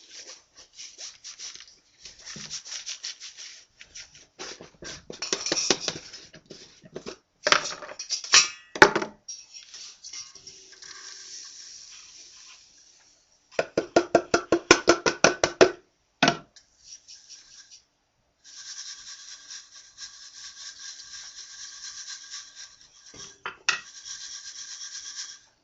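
Mason bee cocoons sieved from old sand, gritty rasping and shaking come in irregular bursts with quiet gaps, close and fairly faint.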